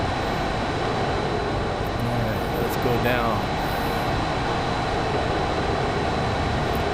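A jet aircraft drones steadily in the VR game Dawn of Jets, a constant broad engine roar with a person briefly talking over it.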